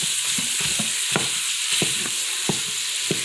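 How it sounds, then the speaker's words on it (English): Sausage and chicken sizzle loudly in an Instant Pot as a utensil scrapes and stirs in irregular knocks against the pot bottom, close and steady, with no talk. "we're going to get it started to cooking to get some fry on it, because I like that fried meat taste"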